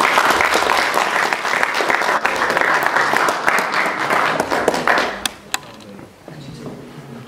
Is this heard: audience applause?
yes